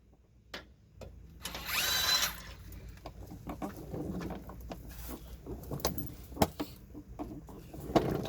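A power tool on a Toyota 4Runner, 2003–2009 model, whirs in short bursts while backing out the 14mm sway bar bracket bolts, with ratcheting clicks and metal taps nearby between runs.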